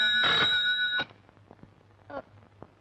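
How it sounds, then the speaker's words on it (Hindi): A telephone rings in a Hindi film scene, a loud bright electronic ring burst at the start followed by shorter, fainter ring pulses and clicks at intervals. "तुम फौरन राधा को फोन करके हमारा प्लान बता दो।"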